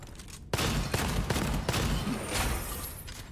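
Gunfire-like bursts from a rocket launcher in a video game, a sudden loud blast followed by a dense, continuous barrage of repeated explosive hits with no talking.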